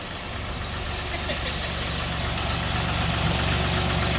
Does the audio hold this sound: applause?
no